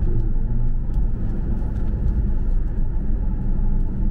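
Porsche 911 engine pulling in second gear, a loud, close, continuous low rumble that stays dense and steady without obvious gear breaks.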